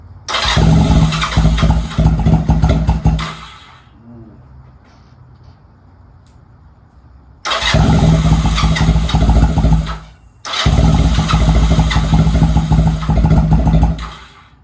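Loud engine cranking and sputtering in three long bursts separated by quiet pauses: repeated attempts to start a Honda Rebel 250 motorcycle after 27 years unused.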